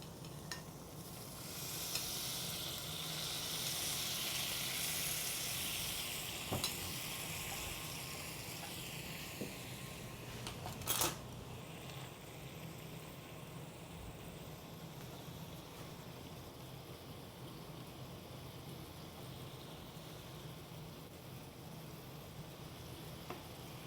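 Fish pieces and vegetables frying in a pan, giving a steady, quiet hiss of oil that holds evenly for over twenty seconds, with a brief clink partway through.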